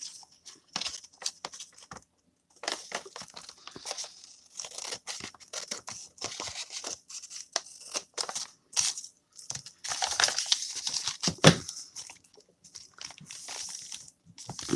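Paper being cut with scissors for a Halloween book project, a run of snipping and tearing strokes with crinkling in between, close and moderately loud, with no voices.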